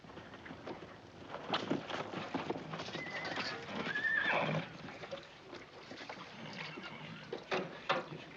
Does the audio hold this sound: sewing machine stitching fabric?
no